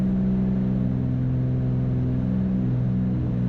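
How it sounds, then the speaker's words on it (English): Twin Cessna piston engines at reduced climb power, around 2450 RPM, make a steady, continuous low drone with strong harmonic hum, even and unbroken throughout, with no talk. "So we'll go easy on the engines."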